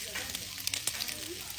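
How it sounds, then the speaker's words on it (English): Sausage and onions stir-frying in a pan, a steady close sizzle with a few sharper crackles and pops throughout. "We are adding sausage with onions. Stir fry."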